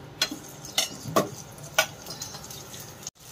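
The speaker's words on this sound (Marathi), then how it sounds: "मी तेलावर हिरवी मिरची टाकली" Green chillies dropped into hot oil in a kadai, a soft sizzle with several sharp crackles and pops spaced apart, ending in a brief silence.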